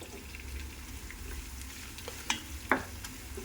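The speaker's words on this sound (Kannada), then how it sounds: "ಈರುಳ್ಳಿ ಅದೆಲ್ಲ ಹಾಕಿದ್ದೀವಲ್ಲ, ಅದೆಲ್ಲ ಚೆನ್ನಾಗಿ ಫ್ರೈ ಆಗ್ತಾಯಿದೆ" Onions frying for country chicken dum biryani, a soft continuous sizzle in a pan with a couple of brief clinks of a utensil near the end.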